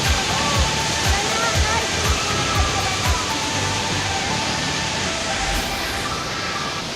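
Mother Falls waterfall in Baler roars as a loud, steady wash of falling water up close, filling the whole scene without pause.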